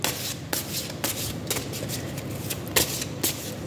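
Small cards are drawn from a deck with soft papery flicks and rustles, several quick handling sounds close by in a quiet room.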